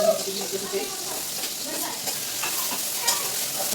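Chopped onion sizzles in a hot pan as it is sautéed and stirred, a steady frying hiss with light scraping and clinking from the spoon throughout.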